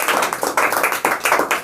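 Students in a classroom clap together in a quick, uneven rhythm of about seven sharp bursts, close and loud, with no talking over it.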